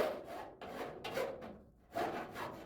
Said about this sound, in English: I'm going to switch over to a hand file